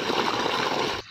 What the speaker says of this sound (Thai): จะเห็นน้ำไหลลงมาเยอะทีเดียวค่ะ